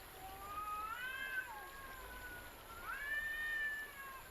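Cats from warrior clans caterwaul in victory, drawn-out rising and falling yowls in two long swells over a steady background hiss, moderately loud and unaccompanied by speech.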